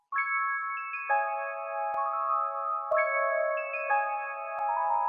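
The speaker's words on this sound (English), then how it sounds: "So next, I just add this bell right here." Bright bell one-shot from an FL Studio sample kit plays a sustained chordal melody, several clear struck notes ringing on one after another over about five seconds, loud and close with no voices.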